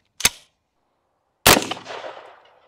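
Two sharp rifle shots with Green Tip 5.56 ammunition fired at a cinder block wall outdoors. A short crack comes first, then a louder second blast that rings out into a long decaying echo.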